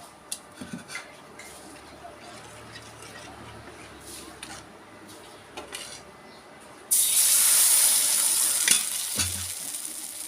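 Pitha, a rice cake, drops into oil in a pan and sets off a sudden loud sizzle that holds steady to the end, after quieter clinks and kitchen handling and a speaking voice.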